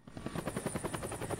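Helicopter in the video game Incredible Crisis, a steady pulsing rotor chop with a high whine, loud and continuous, with no voices over it.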